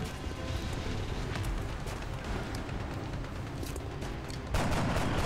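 Overwatch gunfire in the strategy game XCOM Long War rattles in a dense, continuous barrage of muffled shots and rumble, fairly faint, with a louder burst near the end.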